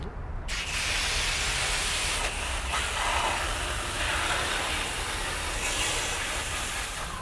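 Water sprays from a hose, rinsing down a car. It makes a steady, loud hiss that begins abruptly and runs on continuously, with slight swells as the spray shifts across the bodywork.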